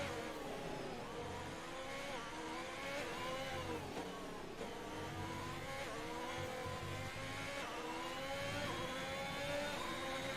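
Onboard engine of an F1 car in a racing video game at the Singapore circuit, a steady high whine rising and falling through gear changes as it accelerates and brakes, loud and continuous with no voices.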